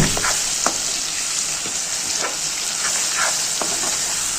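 Tomato and ground mustard, garlic and ginger masala fry for gravy in a hot pan. A loud, continuous close sizzle is broken by scattered scraping stir strokes, with no one speaking.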